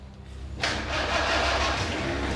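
An old military Jeep engine cranking, then catching and settling into a loud, steady running rumble close by.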